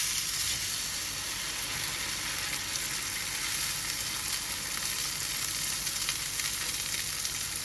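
French toast bread fries in butter in a pan, a continuous close crackling sizzle that holds steady and alone throughout.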